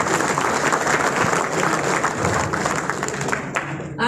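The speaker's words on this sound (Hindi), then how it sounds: "तो आप लोगों के लिए जोरदार तालियां।" Loud, dense audience applause fills a meeting hall, a steady wash of many hands clapping throughout before tapering off near the end.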